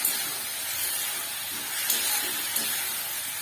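Water poured into hot oil and spices in a pan while cooking a hilsa fish curry gives a steady, fairly loud broadband hiss of steam, with a few sharper spits and no talking.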